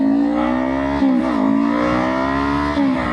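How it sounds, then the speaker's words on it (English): A Kawasaki Ninja 500 motorcycle engine hums steadily and close while riding, holding an even drone with a couple of brief dips and rises in revs. "getting to watch me ride my Ninja 500"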